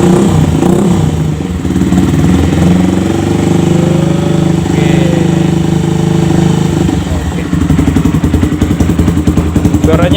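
Motorcycle fitted with an imitation RCB Purbalingga exhaust, idling with a deep bassy tone and then revving in repeated throttle blips, loud and close, with a steady rapid pulse at the end.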